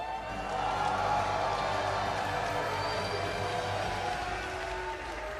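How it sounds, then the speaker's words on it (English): An audience at a USA versus India chess event applauds and cheers, a steady wash of clapping and crowd noise that holds at an even level for several seconds with no talking over it. "Let's hear a round of applause for Levy."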